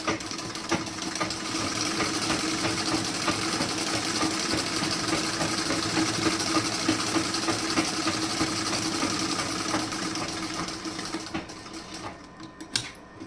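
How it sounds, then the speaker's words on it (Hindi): A sewing machine stitches a blouse in one long, steady run of rapid mechanical whirring and ticking. It slows and stops near the end. "अब यहाँ पे आप एक पत्ती सिलाई लगा दीजिए ऊपर से"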